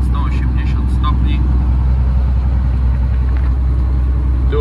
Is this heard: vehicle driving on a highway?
yes